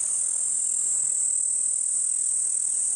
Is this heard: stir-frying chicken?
no